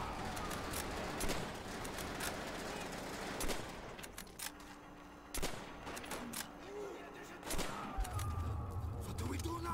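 Gunfire in the World War II shooter game World at War: repeated sharp shots and bursts of automatic fire over continuous battle noise, with players talking over it.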